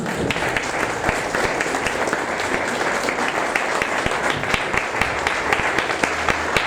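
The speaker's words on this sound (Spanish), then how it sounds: "¿Le pueden dar un fuerte aplauso a Jesús?" A church congregation at a Spanish-language worship service gives Jesus a loud round of applause, a thick, continuous roar of clapping that stays strong and even from start to finish.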